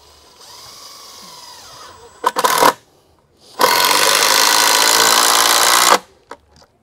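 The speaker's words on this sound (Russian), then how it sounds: "Саморез ставим по центру, притягиваем." A power screwdriver drives a self-tapping roofing screw with a Torx T25 bit: a brief burst of whirring and rattling, a pause, then a sustained high-pitched grinding run of about two seconds that stops abruptly, close and loud.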